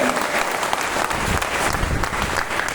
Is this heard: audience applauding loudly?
yes